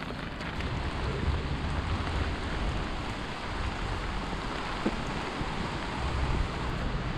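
Rain falls steadily outdoors onto an umbrella, a dense even hiss with soft pattering, constant and fairly close throughout, with no voices.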